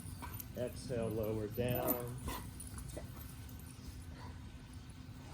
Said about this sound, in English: crossing our arms as the dogs go nuts around us